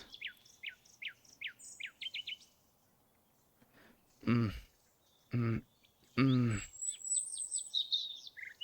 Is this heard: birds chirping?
yes